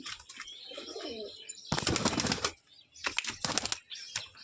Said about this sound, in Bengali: চলে এসছে পায়রা